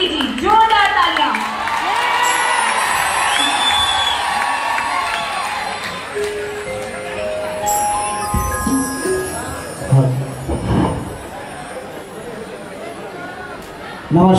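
An audience at a live New Year folk concert cheers and applauds as the singer comes to the stage. The crowd noise is loud, with shouts and clapping, and it mixes with a sustained tone. Cheers swell again near the end.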